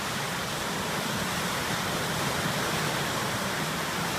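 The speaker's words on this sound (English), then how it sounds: "Man, fucking crazy amount of water in a short time." A flash flood on the Robertson River in Madison County, Virginia roars as a dense, continuous wall of rushing water, loud and unbroken throughout with no voices.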